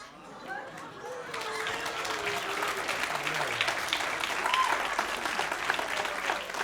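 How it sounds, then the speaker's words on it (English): A packed theatre audience at a live magic show gives a round of applause after a card trick, the clapping swelling from a quiet start into a loud, sustained roar with a few voices calling out over it. "each and every single person in this packed packed-out theater is going to give you a thunderous round of applause"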